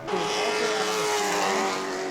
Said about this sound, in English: Another 4 cars to the Speedway for 5 laps in group qualifying for the Pro Lates.